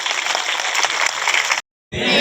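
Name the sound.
applause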